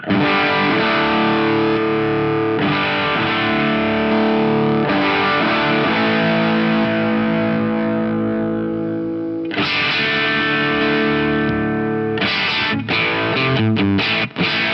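A distorted electric guitar through a Poly Effects Flat V drive pedal plays sustained chords with a thick overdriven tone, changing shape every few seconds, then ends in choppy, muted stabs.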